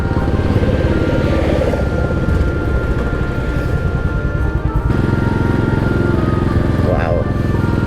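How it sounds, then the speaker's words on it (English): An old tractor engine passing in Betws-y-Coed, Wales, a low chugging rumble that holds steady and loud, mixed with wind and the drone of a motorcycle ridden close to the mic. "Here comes an old tractor."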